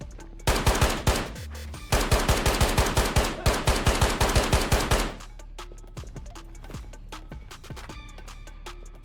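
Automatic rifle fire in the shooter game Ghosts of Tabor, with several rapid, loud bursts over the first five seconds, followed by sparser, fainter distant shots and clatter.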